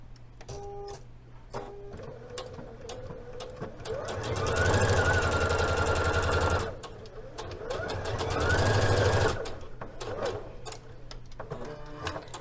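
A sewing machine stitches fabric pieces together for a Liberty London Florence palazzo suit, running in two loud, rapid bursts separated by a pause, with lighter clicks and handling noises before, between and after.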